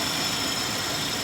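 A car engine idles steadily after repair of a no-start fault caused by water in the gas tank and rust inside the tank, giving a continuous, even hum with no talking.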